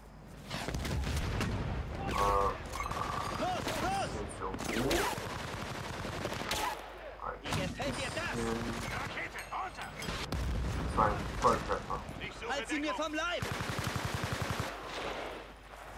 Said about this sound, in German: Schwerer Beschuss.